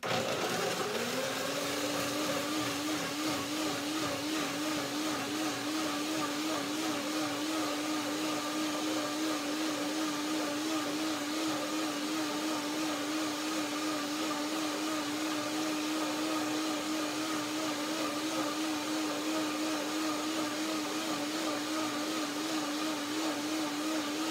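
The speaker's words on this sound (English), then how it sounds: "Blending bananas and cashews and lemon and water is such a nice flavor." A blender runs steadily for the whole stretch, whirring through bananas, raspberries, cashews, lemon and water in a loud, continuous motor drone with a constant pitch after a brief start-up.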